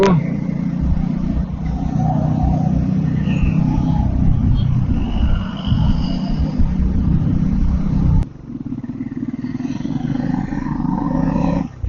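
On a Dominar 400 motorcycle on the highway from Bangalore toward Kolar, a loud continuous engine drone and wind roar fill the ride, with surrounding traffic noise and a brief dip as the throttle eases.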